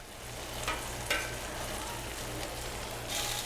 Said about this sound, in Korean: 냉면집에서 지글지글 전을 부치느라 바쁜 이유는 무엇일까?